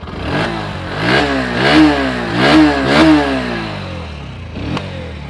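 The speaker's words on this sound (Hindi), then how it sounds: "आइडियल कंडीशन पर engine sound, exhaust note, throttle देता हूँ।" A Bajaj Pulsar 125 motorcycle engine idles close by, then revs up in four rhythmic throttle blips, each rising and falling, before settling back to idle.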